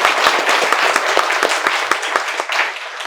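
An audience of students at a coding institute event claps after a countdown, a steady wash of applause from many hands lasting a few seconds without pause.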